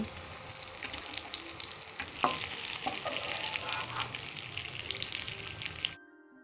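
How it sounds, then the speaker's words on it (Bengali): Sliced egg frying in hot oil in a pan, a loud, steady, bubbling sizzle with a few light clinks of stirring, running continuously before cutting off abruptly. "এবার স্লাইস করে কেটে রাখা ডিমটা আমি সুন্দর করে ভেজে নেব।"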